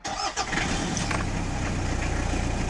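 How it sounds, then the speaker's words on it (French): A car engine, started with a jump-starter battery booster after glow-plug preheating, cranks briefly and catches, then settles into a loud, steady idle rumble close by. "je vais tenter de démarrer la voiture"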